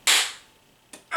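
A voice imitates a wrestling chest chop landing like a gunshot: a sharp, loud crack, then after a short pause a second sharp burst.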